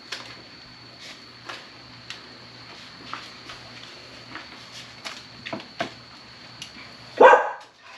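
A pet dog barks once, sharp and fairly close, at the end of a quiet kitchen stretch with faint tapping and a steady high hum while barbecue pasta is being made.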